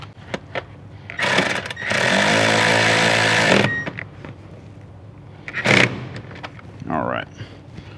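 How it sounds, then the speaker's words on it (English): A ratchet drives a 10mm socket to tighten a ground wire bolt in a Toyota 4Runner. A loud sustained buzzing burst and shorter clicking, rattling bursts follow, all close by. "we can grab our 10mm socket and tighten the bolt down"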